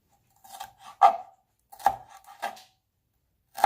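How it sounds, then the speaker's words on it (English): A somewhat dull kitchen knife chops bell peppers on a cutting board: about five crisp, irregular strikes, close and fairly loud, with short pauses between them and no talking. "I'm just chopping these up."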